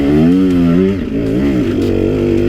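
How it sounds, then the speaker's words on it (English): A KTM 150 XC-W two-stroke dirt bike engine revs hard climbing a steep, rocky hill, a loud, close, buzzing wail that rises and dips as the throttle works. "you've got to rev this sucker out in order to make it go up a steep hill quickly"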